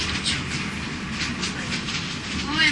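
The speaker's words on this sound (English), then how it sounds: "we will be arriving at Machu Picchu station, the last stop for a trip by train" Passenger train pulling into Machu Picchu station at the end of the line to the sanctuary, a steady rumble from inside the carriage with faint rail clatter and muffled background voices.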